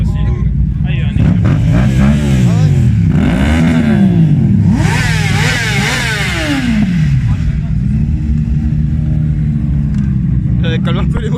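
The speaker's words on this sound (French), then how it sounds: "Calme un peu les moteurs parce que ça craint." Car and motorcycle engines rev hard at an evening car meet, rising and falling whines sweeping up and down repeatedly, loud and close, with people talking underneath.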